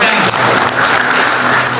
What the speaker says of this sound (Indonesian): Iya siap tepuk tangan untuk beliau.